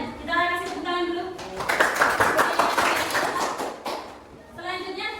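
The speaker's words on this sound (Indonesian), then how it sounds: "kita kasih tepuk tangan dulu" A classroom of students claps together for a group of classmates, a dense burst of mixed hand claps lasting a few seconds between stretches of a teacher's talk.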